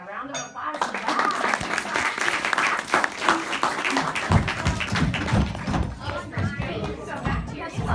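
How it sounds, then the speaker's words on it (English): Audience applause at a first-grade school music show, a steady dense patter of clapping that carries on throughout, with voices chattering underneath and some louder thumps and taps toward the end. "Round of applause for that."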